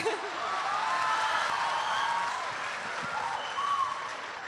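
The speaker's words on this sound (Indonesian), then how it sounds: "Aplaus dulu untuk Pak Abdi." An audience at a talk event applauds steadily for several seconds, a dense, sustained patter of clapping with no voices on top.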